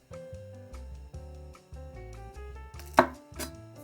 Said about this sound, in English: Cut the 2 ends of the peas, then slice it.